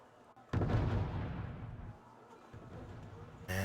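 Mortar fire in the war game Wargame AirLand Battle, a heavy distant boom followed by a long rumbling decay, then a second sharp impact at the end, with no talk.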